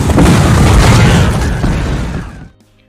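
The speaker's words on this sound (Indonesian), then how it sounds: "lubang tersebut meledak." A loud, deep explosion roars with a heavy rumble, then trails off and cuts to near silence.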